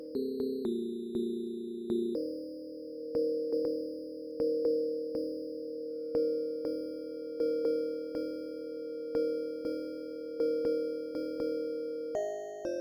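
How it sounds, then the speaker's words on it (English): A steady synthesized sine-wave tone with clean, pure pitches shifting between a few levels, repeated in pulses with small clicks at each change, alone and fairly soft. "Let's make it just a sine wave."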